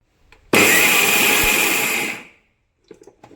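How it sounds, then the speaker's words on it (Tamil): A mixer grinder jar whirs through a single short pulse of kanji ingredients, a loud, steady motor whine with a bright high tone. It runs about two seconds, then winds down, and some faint clatter follows. "மிக்சியில் இப்போ ஒரே ஒரு சுற்றி எடுத்துகிட்டு வர போகிறேன்"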